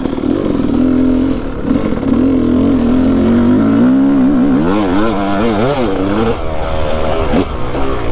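A 2020 Yamaha YZ250 two-stroke dirt bike rides close by on a dry track. The engine drones steadily, then revs up and down in quick, wavering bursts, loud throughout with no talking.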